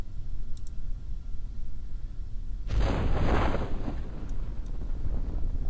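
A rocket engine crashes and explodes in Kerbal Space Program, a sudden deep rumbling blast that swells and lingers as a dull roar over steady wind-like background noise.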